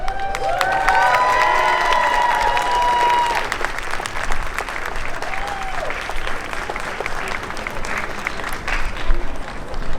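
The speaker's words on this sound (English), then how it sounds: "let's give another round of applause for the Queen and Court" At the 2022 Cherry Blossom Festival, a crowd claps and cheers for the Cherry Blossom Queen and Court, with sustained loud applause while an announcer's voice speaks briefly over the opening seconds.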